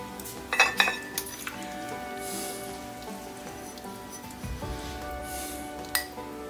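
Tongs lift cooked collard greens out of an Instant Pot, with a few sharp metallic clinks against the pot and soft wet rustling beneath, close by and fairly quiet.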